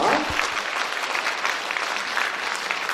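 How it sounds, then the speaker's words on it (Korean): Audience applause welcoming city council members at a public town-hall forum with the Incheon mayor, a steady wash of clapping from a large seated crowd, moderately loud and continuous. "박수로 맞아주시기 바랍니다."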